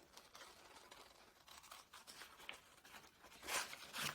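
Scissors snip and rustle through a paper sewing pattern during pattern cutting, giving a run of soft, close crisp cuts that grow louder near the end, with no talking.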